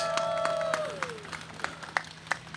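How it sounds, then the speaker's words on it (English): Audience applause at a Trans Remembrance Day gathering in The Hague, scattered claps with a few sharper peaks over a steady crowd wash, accompanied by a sustained tone that glides downward. "Another round of applause, please."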